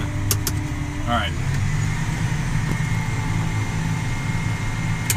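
A tractor engine droning steadily while disking a field, with the engine speed eased down. The sound is a low, continuous rumble heard from inside the cab, with a few brief clicks and a short electronic tone.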